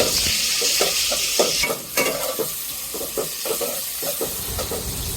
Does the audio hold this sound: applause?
no